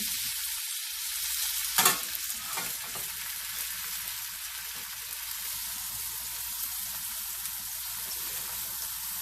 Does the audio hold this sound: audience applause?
no